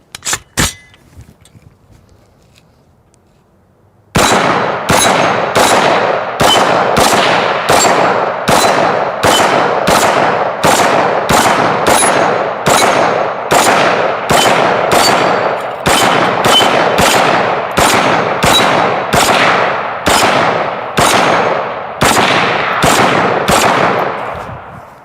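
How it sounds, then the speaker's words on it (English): Rapid, evenly spaced rifle shots from a CMMG Mutant 7.62 rifle hitting steel targets, about two dozen loud cracks with ringing tails after a short quiet lead-in. "we're just going to do a little bit of plinking first, shoot some steel"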